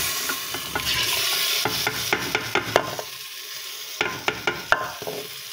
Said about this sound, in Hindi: अब मैंने इसमें ये जो कोफ्ते बनाए हुए थे ये भी और दही में डाल के रखे हुए थे, ये मैं दही समेत इसमें ऐड कर दूँ।